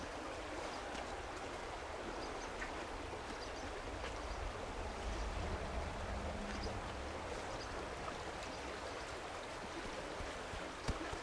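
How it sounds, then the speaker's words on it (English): Water streams and trickles continuously at close range as it is squeezed out of a wet survival blanket, a steady splashing flow throughout with no talking. "I can squeeze the water out of it."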